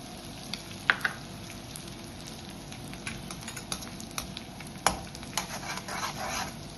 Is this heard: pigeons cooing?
no